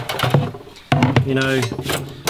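A drawer in an Oztent RX4 camping kitchen unit slides open with a short knock and scrape, heard under someone talking nearby.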